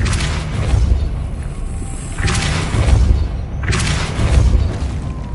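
Casting the Repulsor spell in Hogwarts Legacy sets off loud booming blasts, three whooshing bursts spread across a few seconds over a rumbling background.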